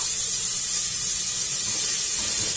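Chopped garlic and onion fry in a hot pan with a steady bright hiss, loud, close and unbroken, with no talking.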